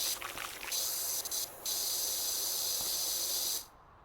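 Pressure washer nozzle spraying in the PowerWash Simulator video game, a loud, bright, continuous hiss that dips briefly near the middle, then stops abruptly.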